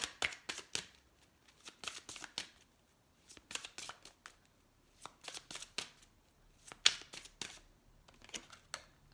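Tarot cards are shuffled in several quick bursts of crisp riffling and flicking, close and fairly quiet, separated by brief pauses.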